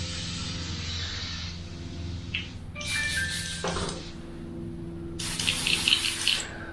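Water runs from a tap in bursts, a brief gush then a louder steady stream near the end, set in a quiet room with a low steady hum underneath.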